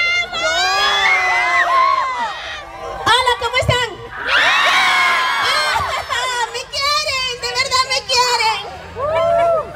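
A crowd at a comic festival shouts, screams and cheers loudly in repeated bursts of high excited voices, with a person speaking between the waves of noise.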